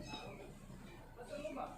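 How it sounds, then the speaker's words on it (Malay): A cat meows a few times, fairly close, at a house during a fire and rescue callout, with people talking over it. "Kucing, kucing"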